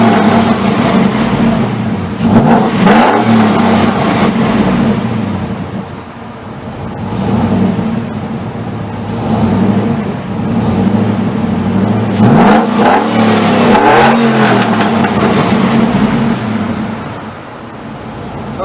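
GMC Envoy engine fitted with headers and a cold air intake, revving repeatedly with small exhaust leaks at the front, loud rising and falling bursts of throttle, close up and with no voices.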